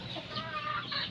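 A Boston Sweater gamefowl rooster gives a short burst of throaty clucking at close range, loud and alone for about a second.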